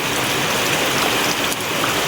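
Heavy rain pours over flooding rice fields, a dense, even hiss of countless drops that stays loud and constant with no voices.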